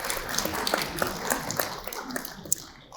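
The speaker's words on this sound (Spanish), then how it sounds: "Un aplauso." An audience at a talk-panel event gives soft, fairly distant applause, a diffuse patter of many hands that tails off toward the end.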